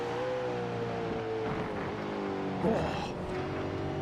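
An iRacing race car engine drones steadily at Watkins Glen, its pitch sliding down through the chicane and then wavering as the throttle is feathered, with a brief rougher burst near the end.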